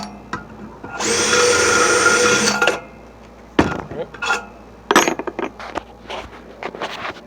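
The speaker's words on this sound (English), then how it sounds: "Alright, let's just drill these out real fast." A power drill bores out holes in Carlin EZ-1 oil burner parts with one close, whining burst of about two seconds, followed by clinks and clunks of metal parts and tools being handled.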